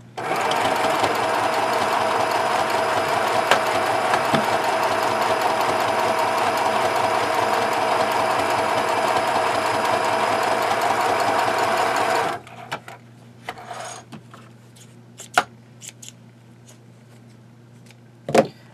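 A sewing machine topstitches a seam joining two fabric pieces, running steadily and loudly for about twelve seconds, then stops, leaving a few faint clicks and handling sounds.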